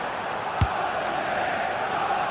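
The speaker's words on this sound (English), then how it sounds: "the crowd is certainly trying to motivate the players to get the equaliser" A football stadium crowd in a Gran Turismo Sport league broadcast roars steadily as fans urge their team toward an equaliser, one brief thump rising out of the constant wall of noise.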